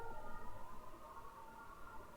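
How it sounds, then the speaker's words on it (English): A Hungarian ambulance siren wailing in a steady sustained tone, faint and distant beneath a low background rumble. "Got the Hungarian ambulances"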